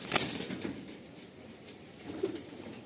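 Pigeons in a loft coo softly and briefly, with a faint flutter near the start and another low coo later, against quiet background hiss.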